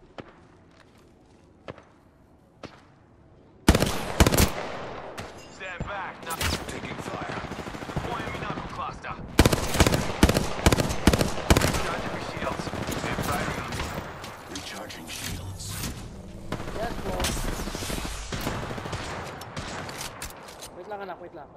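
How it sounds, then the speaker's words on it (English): Heavy gunfire in Apex Legends, with loud repeated bursts and rapid automatic fire running throughout a chaotic firefight, mixed with game sound effects. "Being shot at."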